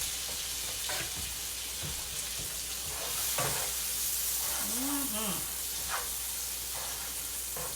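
Roughly chopped ingredients for a chicken pasta dish go into a hot pan and sizzle with a steady, loud hiss, while stirring clatters now and then and a voice speaks briefly over it.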